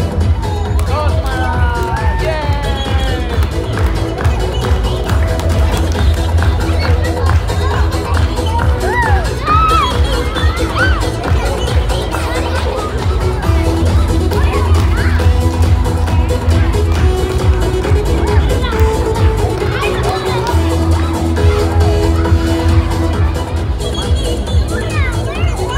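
A crowd at a school masquerade ball cheers and shouts continuously, with children's voices prominent in the busy, loud babble and music or speech running underneath.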